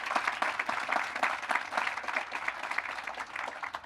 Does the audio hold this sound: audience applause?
yes